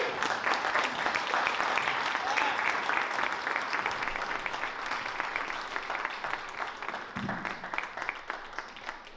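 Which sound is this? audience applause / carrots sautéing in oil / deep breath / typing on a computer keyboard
audience applause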